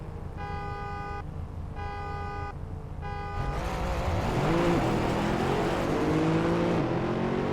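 Three sustained car horn blasts sound in a row, each about a second long with short gaps, followed by a loud engine revving and rumbling close by.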